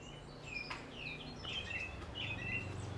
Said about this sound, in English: And all the birds.